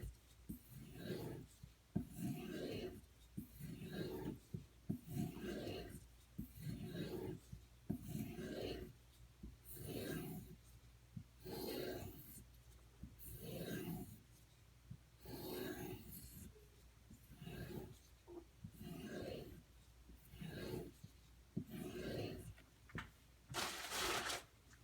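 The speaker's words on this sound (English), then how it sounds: "I'm going to go ahead and strop on this. Hopefully that'll remove any burr I've got left." Knife blade stropped to remove the burr, a regular series of soft rasping strokes, about a dozen evenly spaced passes each lasting around a second, close and quiet with no talk.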